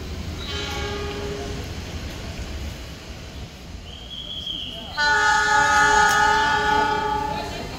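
A CC206 diesel locomotive hauling a train through a busy Jakarta station: steady rolling rumble, with loud multi-tone horn blasts near the start and again more strongly toward the end.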